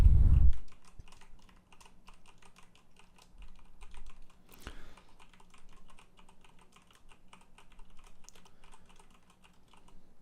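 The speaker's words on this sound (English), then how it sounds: "I'm now pressing on the WASD keys as well as spacebar and R key occasionally" Computer keys tap in a rapid, uneven gaming pattern of WASD presses with occasional spacebar and R hits, close and fairly quiet, following a brief low thump at the start.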